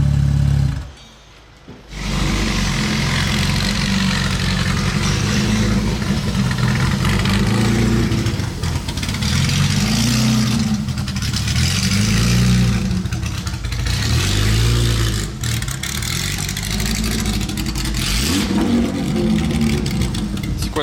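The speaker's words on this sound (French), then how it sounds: "C'est une 300 SL version course on dirait. Oh le bruit!" A racing-version Mercedes 300 SL engine at a Monaco yacht show, loud and close, idling roughly and revving in repeated surges for a long stretch, with excited talk over it.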